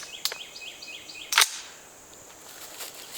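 A SIG M400 rifle chambered in 5.56 fires one sharp, cracking shot outdoors, fairly distant and brief, with birds chirping in the background.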